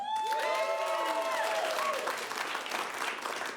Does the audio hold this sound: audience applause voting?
yes